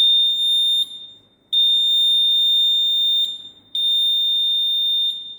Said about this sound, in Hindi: जैसे बटन प्रेस करूँगा, बजर बजेगा।